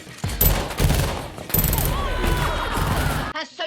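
Gunfire rings out in a film's final shootout scene, bursts of rapid shots and sharp cracks with brief gaps between volleys, loud and close, cutting off abruptly near the end.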